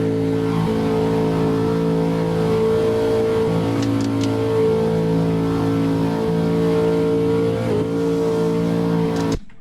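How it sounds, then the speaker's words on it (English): A Corvette C6 engine in Assetto Corsa held at full throttle, a loud steady high-revving drone with strong harmonic tones and a brief dip near the end before cutting off. "I'm just gonna smash the throttle the whole time and I'm just not gonna let it go"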